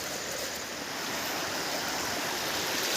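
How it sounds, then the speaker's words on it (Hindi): A waterfall stream rushing down from a forest above rice fields, a steady broadband roar of flowing water that holds constant and fairly loud throughout, with no talk. "ये भी एक झरना है जो कि जंगल के ऊपर से बहते आ रहा है।"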